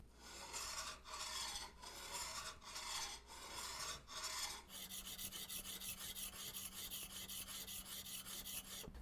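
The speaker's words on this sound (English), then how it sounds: "so I'll keep using this 80 grit sandpaper" A steel chisel scraped over coarse 80 grit sandpaper in steady back-and-forth rasping strokes, close and loud, first in long rhythmic passes and then in quicker, shorter rubs with no talk.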